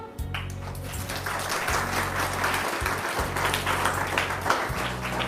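An audience applauds steadily after a Mother's Day message, the clapping moderately loud and even, with low sustained instrumental tones droning underneath.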